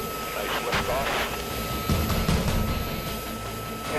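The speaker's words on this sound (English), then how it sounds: "airborne. Nice liftoff." Jet aircraft engines roaring at full power through takeoff and liftoff, heard as a steady broadband rumble with brief surges, under cockpit voices calling out the climb.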